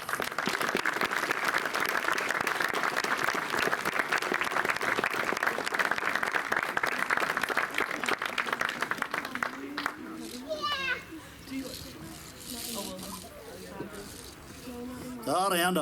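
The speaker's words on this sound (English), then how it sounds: "he deserves a bit of a round of applause for what he done" Crowd applause at the 50th anniversary mural opening for Monkstown Flute Band, an outdoor burst of clapping for about ten seconds that thins out into scattered claps and children's voices and chatter.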